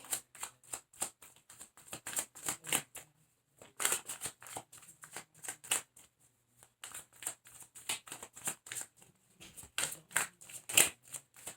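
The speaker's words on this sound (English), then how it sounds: "I'm shuffling and looking at these cards" Tarot cards being shuffled in repeated quick riffling bursts, close and crisp, with brief pauses between rounds.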